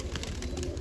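Pigeons cooing in a village loft, a soft, steady low murmur of coos running continuously at close range with no talk over them.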